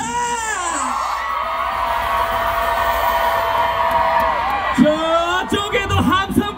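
At the Peak Festival 2024 concert, an outdoor crowd screams and cheers in a sustained, high-pitched roar for several seconds before scattered whoops and shouts break through near the end.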